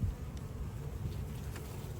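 A steady, close buzzing of close to 10,000 honeybees at an open hive hums throughout, continuous and fairly loud, with no voices.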